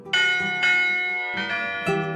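Church bells in the Iloilo and Capiz provinces of the Philippines ring out in about four resonant, overlapping strikes, each leaving a long ringing tail.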